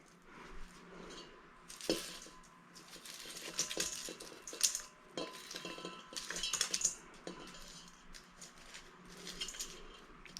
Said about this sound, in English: So let's toss these. First, get them into your bowl.